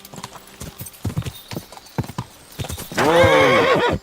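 Horse hooves clip-clop at a steady walking pace in the medieval video game Kingdom Come Deliverance 2, close and crisp, followed by a loud whinnying neigh near the end.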